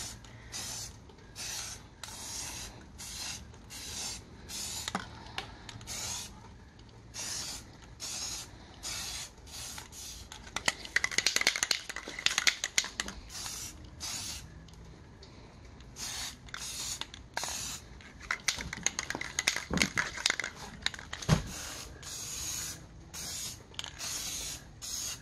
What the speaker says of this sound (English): I'm going to spray paint it with this Rust-Oleum paint